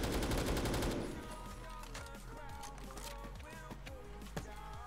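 Rapid volley of pistol shots from a Deagle 50 in the game Phantom Forces, dense at first, then sparser shots and game sounds, with a voice talking throughout.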